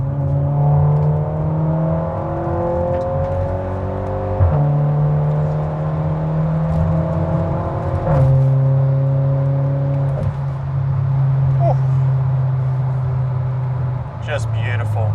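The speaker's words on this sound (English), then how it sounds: "you can probably hear in the background, we do have an aftermarket exhaust" Turbocharged 2011 Volkswagen Golf GTI with an aftermarket exhaust, its engine droning steadily through several upshifts as it accelerates, heard from inside the cabin with a driver talking over it.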